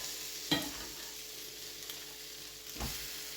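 A breakfast item fries in oil in a pan with a steady close sizzle and two brief scraping knocks, no voices.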